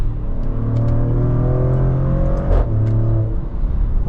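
A 2025 Maserati Grecale Trofeo's real exhaust rumbles steadily from inside the cabin while driving, a deep continuous engine drone with slight rises in pitch as it pulls.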